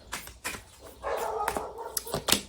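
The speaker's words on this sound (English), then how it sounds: "I thought Cosmo barked." Dog named Cosmo giving a few small, soft barks and yips, faint and short, with a quiet voice talking in the room alongside.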